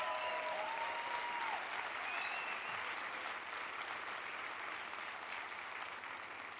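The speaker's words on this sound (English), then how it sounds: "Round of applause for Noma and for doing this." Steady, dense audience applause at a talk fills the whole stretch, loud and sustained with a faint whistle or two riding on top, tapering only slightly at the end.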